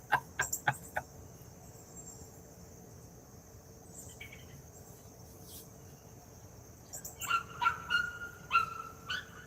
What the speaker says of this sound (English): See, even the puppy alarm wants to know, Mr. Lee.